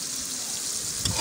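Fried eggplant lands in hot masala for a Pakistani baingan dish, giving a steady, crackling sizzle with a brief louder burst near the end.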